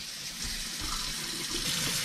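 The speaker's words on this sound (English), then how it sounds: "let's see how loud just running water is" Tap water runs steadily in a home kitchen, a continuous bright splashing hiss at an even level with no voices.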